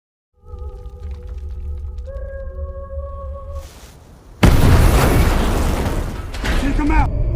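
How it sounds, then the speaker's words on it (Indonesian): An electrical substation blows up in a film: a humming, whining buildup gives way to a loud, sustained explosive roar and crackle. "Clint sengaja telah membuat gardu listrik meledak terlebih dahulu"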